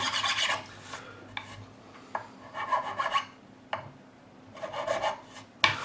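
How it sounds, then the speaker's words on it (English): A file rasps across the frets of a Gibson SG Special guitar in short, close strokes, with bursts of scraping separated by pauses and a few light taps. "What we'll do now is take a file."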